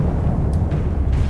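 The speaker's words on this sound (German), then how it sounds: "Gewittert." Thunder rumbles in the video game Alice: Madness Returns as a continuous loud, low, rolling roar with faint higher crackles scattered through it.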